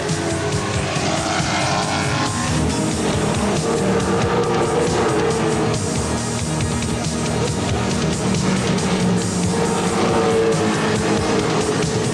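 Rover saloon race car with about 300 horsepower lapping Silverstone in the TT, its engine roaring loud and close without a break, tires hissing as it speeds along.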